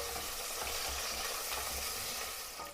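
Finely chopped onion frying in a pan with whole spices such as mace and shahi jeera, a steady hiss and sizzle with soft scraping stirs, close and fairly quiet, no voices.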